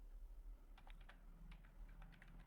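Quick bursts of keystrokes on a computer keyboard as a file name is entered, irregular taps clustered in short runs, close and faint over a low steady hum, no voices.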